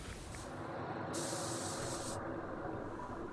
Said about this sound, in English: the etch I'll be using here is the Wattle Super Etch, which is a single pack epoxy etch primer